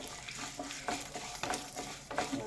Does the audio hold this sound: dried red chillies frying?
yes